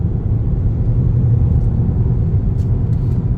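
A high-mileage 2013-2015 Ford Escape drives along a back road, its engine and road noise forming a steady low rumble from inside the cabin as it pulls up through the gears.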